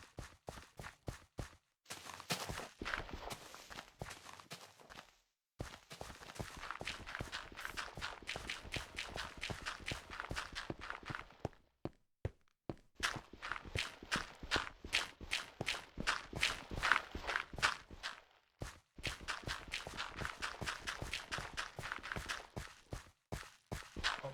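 Loud Minecraft footsteps in a rapid, steady rhythm of crisp thuds, running in long bursts broken by short pauses, with no talking over them.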